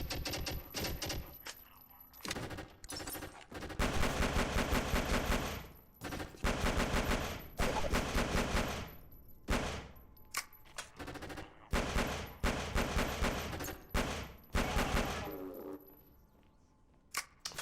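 Pistol shots in a video game fire in quick bursts, sharp loud cracks clustered in repeated volleys with brief gaps, continuing for most of the stretch before tapering off near the end.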